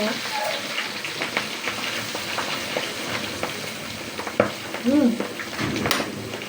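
Milkfish (bangus) fries in hot oil with a steady, close crackling sizzle, punctuated by a few utensil clinks and pops, while a person talks nearby.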